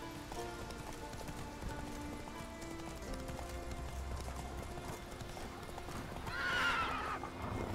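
Horse hooves clip-clop steadily in The Witcher 3 video game, joined by a whinny near the end over a continuous game music and ambience bed.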